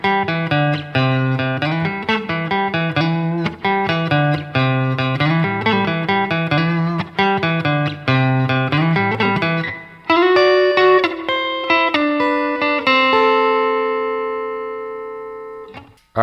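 An electric guitar plays the chorus notes of a song as a steady run of bright, sustained, slightly overdriven notes, loud and close, ending on held chords that ring out and fade, with no talking.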